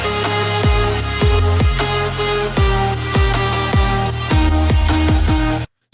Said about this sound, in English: I'll show you all of the synths in the drop right now.